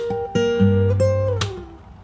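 A fingerstyle acoustic guitar plays a new chorus bar, with plucked melody notes over an open bass note and a sharp strum near the end, close and solo.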